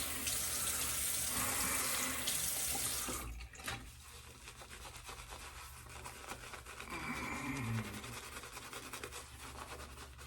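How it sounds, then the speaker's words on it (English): Water gushes steadily from a tap for a few seconds, then cuts off, leaving quieter dripping and splashing in a sink. "So I'll use my chin, make a little dimple there, and then I'll put water in it."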